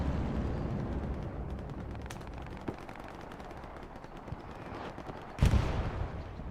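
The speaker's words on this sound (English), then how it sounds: "More nice grenades here from DBD, taking a lot of infantry" Grenades bursting during a competitive infantry match in the World War II shooter Hell Let Loose, heavy booms and gunfire layered over a constant dense battlefield rumble, with one louder blast standing out near the end.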